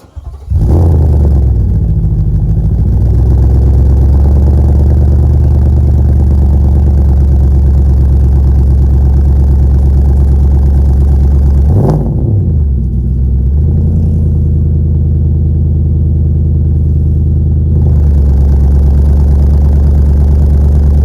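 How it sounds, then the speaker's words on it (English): A Nissan Y62 Patrol fitted with a Manta cat-back exhaust fires up cold and settles into a loud, deep idle, with a brief blip of revs near the middle before it drops back to a steady drone. "Manta cold start."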